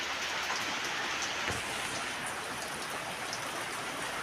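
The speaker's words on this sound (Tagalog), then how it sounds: "Malakas po ang ulan." Heavy rain pours steadily on and around a roof, a dense, loud hiss with scattered drip and patter hits and no voices.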